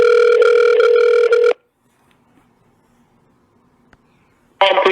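Steady telephone dial tone after a call to a police service is hung up, loud and continuous for about a second and a half, then near silence before the tone resumes.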